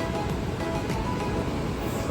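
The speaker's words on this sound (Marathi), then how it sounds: "समुद्र जरा खवळलेलो" Loud, continuous roar of rough sea surf breaking on a shore, with wind buffeting the microphone throughout.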